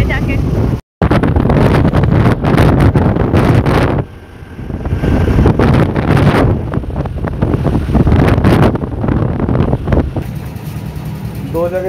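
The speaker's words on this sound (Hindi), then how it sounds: "अभी यहाँ पे जो है हवा चल रही है बहुत ज़्यादा" A strong wind blows outdoors and buffets the microphone with a loud, continuous roar. The roar cuts out briefly near the start, eases for a moment partway through, then surges again.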